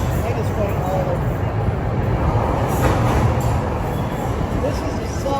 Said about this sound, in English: This is the subway in Budapest.